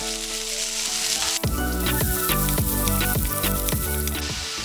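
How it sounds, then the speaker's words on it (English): Vegetables and roasted peanuts stir-fried for Kung Pao tofu, a loud continuous sizzle that bursts up as the vegetables hit the hot pan, with rhythmic tossing and scraping. "After another minute or so, add in your veggies and mix that in."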